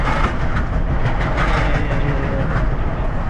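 A Honda Fit engine knocks loudly with a dense, continuous clatter and heavy low rumble, so loud it resembles a passing train, steady throughout and recorded close with no voices.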